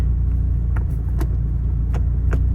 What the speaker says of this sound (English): I like rolling through my own gears. This shifter is pretty nice.